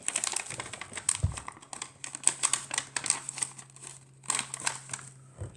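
Paper is folded and tucked while an origami crate is made, giving close crinkles, creases and rustles in irregular bursts against a faint low hum.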